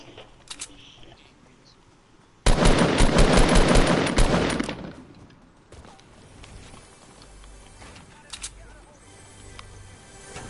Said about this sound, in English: He's shooting at me, he's shooting at me!